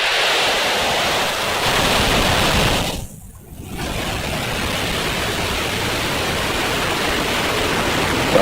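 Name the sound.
SpaceX Falcon 9 rocket liftoff roar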